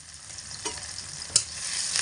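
Cumin, ginger and chilli pastes sizzle in a pan while being gently stirred, a soft continuous fry with a few spoon scrapes and one sharper clink near the end.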